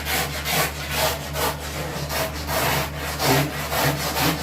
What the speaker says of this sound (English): it's kind of like a coarse sanding block or coarse sandpaper work.